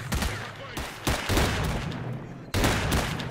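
Gunfire in the shooter S.T.A.L.K.E.R. Clear Sky, dense, loud bursts of shots cracking close by in a rapid, uneven firefight for a few seconds.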